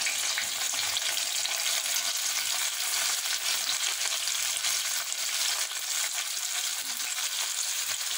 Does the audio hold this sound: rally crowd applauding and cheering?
no